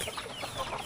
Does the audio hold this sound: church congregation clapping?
no